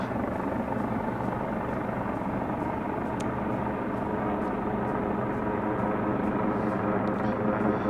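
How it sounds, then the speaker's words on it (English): Over a New Jersey neighborhood, a helicopter or aircraft drones steadily overhead, a continuous rotor-like thrum, moderately loud and unchanging throughout. "It sounds like a airplane, helicopter, whatever."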